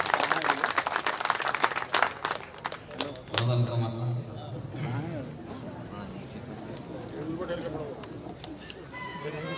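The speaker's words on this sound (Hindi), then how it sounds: "आप तालियों से भी इस्तकबाल कर सकते हैं इस शायर का।" Applause welcomes a poet at an all-India mushaira, a burst of clapping that tapers off quickly. Several voices talk over and after it, and the crowd noise lingers in the background.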